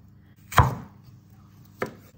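A knife chops through sweet potato slices on a board, cutting them into long fry strips: two distinct, close chops about a second apart, the first louder, with no talking.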